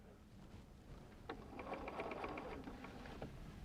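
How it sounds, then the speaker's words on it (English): A sewing machine stitches along the edges of a Christmas stocking, a quiet, quick mechanical rattle of the needle that runs in short bursts. "We're just going to sew all the way around the edges"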